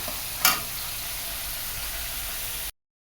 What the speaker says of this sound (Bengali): দেখো চিংড়ি মাছটা ভাজা ভাজা হয়ে গেছে